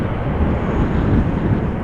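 Airplane at Amsterdam Schiphol Airport giving a steady, broad jet roar with wind-like rumble, fairly loud and continuous over a short stretch, no voices.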